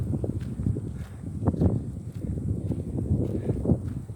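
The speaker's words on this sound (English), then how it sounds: "And that wind, it's so nice." Wind gusts across an outdoor hiking trail, buffeting the microphone with low rumbling roars, while footsteps crunch steadily underneath at close range.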